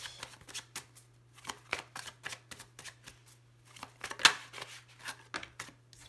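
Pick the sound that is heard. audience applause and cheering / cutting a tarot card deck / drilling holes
cutting a tarot card deck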